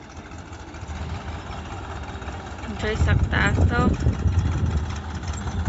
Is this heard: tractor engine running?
yes